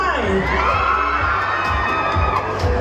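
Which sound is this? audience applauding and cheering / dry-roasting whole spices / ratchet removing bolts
audience applauding and cheering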